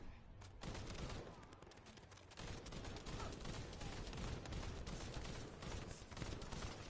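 Dense, sustained gunfire in The First Descendant, rapid overlapping shots forming a continuous noisy barrage heard faintly and evenly throughout, with brief speech beneath.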